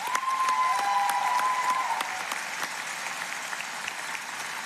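A commencement crowd at Colorado School of Mines claps for Jordy, a broad, sustained wave of applause filling the hall, loud at first and easing slightly, with a faint tone lingering over it early on.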